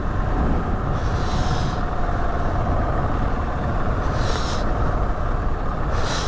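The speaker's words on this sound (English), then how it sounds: "I'm just going to let this car go." A car on a road race course near a chicane sweeps past, a loud continuous roar with brief hissing surges, heard close with no talking.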